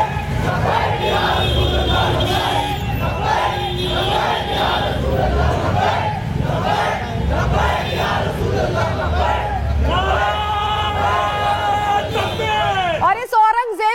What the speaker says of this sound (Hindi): यहाँ पर जो भीड़ थी वो एक तरह से भड़काऊ नारेबाजी करने